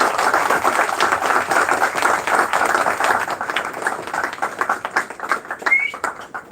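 Crowd applause welcoming a guest of honor at a live celebration event, a dense sustained patter of many hands clapping that thins gradually, with a brief bird-like chirp near the end.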